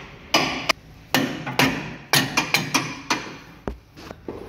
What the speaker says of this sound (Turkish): Dur, çekiç ver bana, tıklayayım az bir şey.